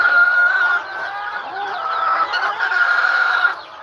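Chickens, with a couple of turkeys kept alongside, cluck and chatter continuously at close range on a small farm, a busy flock sound with overlapping calls and no talk.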